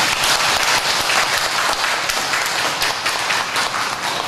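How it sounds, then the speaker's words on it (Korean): Loud, sustained clapping from a church congregation at a Sunday family-church service, dense and even from start to finish with no talking over it. "저 뒤에 앉아있는 대로씨 큰 박수 한번"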